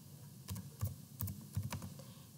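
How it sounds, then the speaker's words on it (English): Quiet, close typing on a computer keyboard, a few quick irregular keystrokes in small bursts with no talking. "And then for tags, I will type Kaltura."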